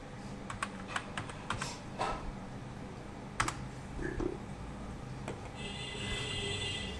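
Keys clatter in quick irregular bursts as someone types text on a computer keyboard, fairly close, with short pauses between runs of keystrokes and a faint steady background hum.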